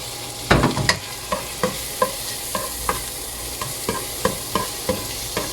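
Tomato and garlic sautéing in a pan under a constant sizzle, with a spatula scraping and stirring in a regular rhythm of sharp strokes, close and with no one talking.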